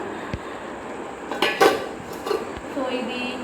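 Metal kadai, an Indian wok pan, clanks and clinks while being handled during packing, with a few sharp knocks and scrapes, close by and fairly loud.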